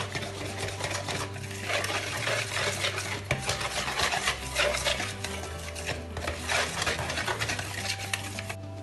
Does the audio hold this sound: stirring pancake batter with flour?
yes